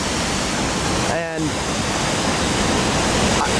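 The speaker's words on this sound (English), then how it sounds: "But then all of a sudden I saw water trickling down" Water trickling down a decorative water feature at SeaTac Airport, heard as a dense, steady rush and splash that fills the whole clip, with a brief spoken word partway through.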